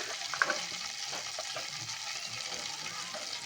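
Butter sizzles and fries steadily in a pan for a paneer masala curry, a soft, continuous crackling hiss close by with a faint clink of a stirring utensil near the start, and no talking.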